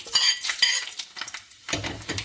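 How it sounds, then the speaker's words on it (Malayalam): Fenugreek seeds splutter in hot coconut oil in a pan, giving bursts of crackling and sizzling pops with short quiet gaps between them, close and fairly soft. "എന്നിട്ട് ഞാൻ ഉലുവ പൊട്ടിക്കുകയാണ്"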